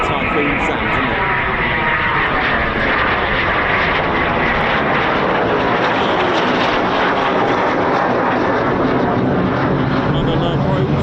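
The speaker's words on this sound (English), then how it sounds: "Lovely classic Typhoon sound, isn't it?" A Eurofighter Typhoon FGR4 jet flies near RAF Coningsby, a loud, continuous broadband engine roar holding steady across the whole stretch.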